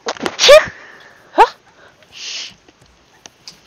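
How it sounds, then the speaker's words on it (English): A small, quick sneeze up close in a Raft survival game session, followed by a second short sneezy burst and a faint softer puff, each separated by quiet gaps. "Cute sneeze right there."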